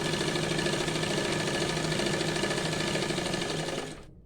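A sewing machine stitches the side seam of a salwar, running as a fast steady close mechanical whir that stops abruptly near the end, with no talking.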